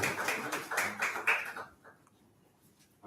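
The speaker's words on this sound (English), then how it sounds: "Is another round of applause." Applause from the audience at a press conference on an immunotherapy clinical trial. Dense clapping fills the first second and a half and then cuts off sharply, leaving quiet room tone.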